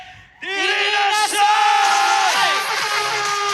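Crowd at a lively gathering erupting into loud yelling and whooping after a brief quiet moment, voices overlapping in sustained shouts and screams that hold strong before tapering slightly.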